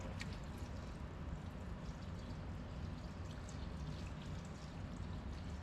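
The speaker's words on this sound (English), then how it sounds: "we're going to throw in some water" Water poured into a Dutch oven on a stove turned up to high, about a gallon going in as a steady, rushing broadband pour that holds at a constant level throughout, close and fairly loud with no voices.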